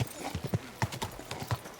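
Horse hooves clip-clop at a walking pace in the medieval video game Kingdom Come Deliverance II, a close, irregular patter of soft thuds with a faint voice underneath.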